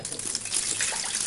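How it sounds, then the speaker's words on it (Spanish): Water runs from a tap over a toothbrush, a steady close trickle and splash that lasts the whole moment with no voices. "Le tiras mucha agüita"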